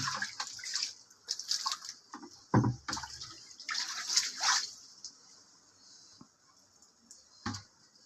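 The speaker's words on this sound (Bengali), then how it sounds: "বারান্দায় আমি এখানে জল ঢেলে দেবো" Water splashes across a balcony floor in uneven gushes and spatters, with a few heavier pours and dripping pauses between them, heard close up without talk.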